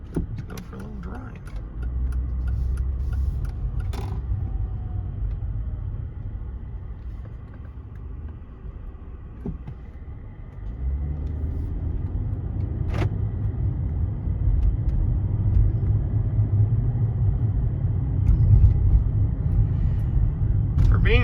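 A nearly 20-year-old Mercedes-Benz is put in gear and driven, its engine a low, quiet, smooth rumble heard from inside the cabin with a few clicks and light interior rattles.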